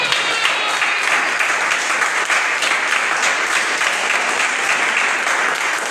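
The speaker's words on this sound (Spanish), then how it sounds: "Dar un aplauso a Cristo." A church congregation breaks into loud, sustained applause during a Spanish-language sermon, a dense, even roar of many hands clapping continuously for several seconds with no letup.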